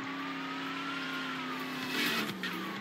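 A Lamborghini Aventador in the Roblox game Ultimate Driving hums with a steady engine tone, then revs briefly, with no talk.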